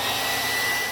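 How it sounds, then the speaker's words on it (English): A handheld blow dryer runs steadily on a ball helmet, a loud, continuous airy whoosh held close without pause. "use the blow dryer again"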